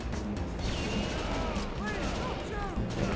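Bursts of gunfire from an arcade light-gun game repeat over a continuous noisy backdrop while a person talks over the shooting.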